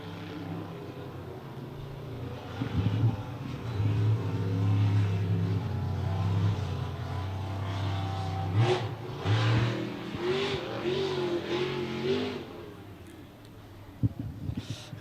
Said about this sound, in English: that was the Pro Performance boat heading down into turn number 1, driven by Dean Borg